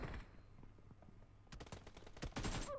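Sharp bursts of automatic gunfire in a shooter video game, a few scattered shots followed by rapid, closely spaced volleys that grow louder toward the end.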